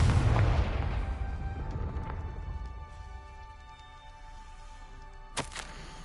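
Confringo fire spell explosion in Hogwarts Legacy, a heavy booming blast that opens loud, then rumbles and rings down over several seconds before a brief sharp crack near the end.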